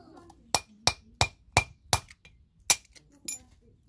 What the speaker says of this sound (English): you just hit it with a hammer